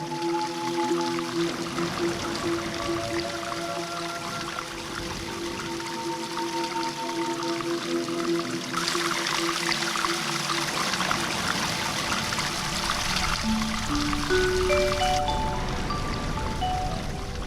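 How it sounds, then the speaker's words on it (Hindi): Water pours and trickles steadily as rain falls, a continuous broad wash of sound with sustained musical tones running over it throughout. "पानी बरसने लगा।"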